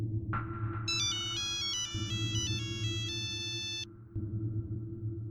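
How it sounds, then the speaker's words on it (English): A telephone rings in a repeating electronic ringtone pattern of bright tonal bursts over a steady low rumble, lasting several seconds before stopping. "when the phone rang again"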